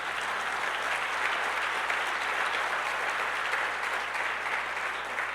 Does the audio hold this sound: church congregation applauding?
yes